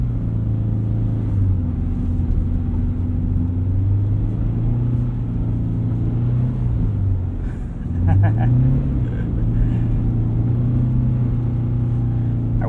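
A 2022 Subaru BRZ on Falken Winterpeak F-Ice 1 winter tires, aired to about 35 psi, drives through wet snow and slush, its engine a steady low drone with a brief rise in revs partway through, and a voice talks over it.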